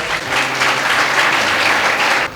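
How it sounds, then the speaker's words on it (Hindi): A business talk audience breaks into loud applause, a brief dense burst of clapping that holds steady and then cuts off. "जोरदार तालियों के साथ"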